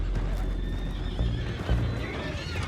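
Horses neigh and whinny in the Western action game Red Dead Redemption II, with clopping hooves and a steady ambient rumble beneath, fairly close and continuous.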